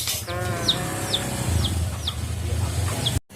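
A chicken clucks and calls in a run of short, fairly close squawks over steady outdoor background noise, ending in a sudden cut.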